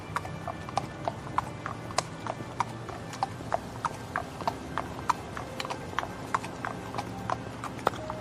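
A messenger's horse sets off at speed, its hooves clip-clopping in a quick, even rhythm of sharp close strikes over a faint background.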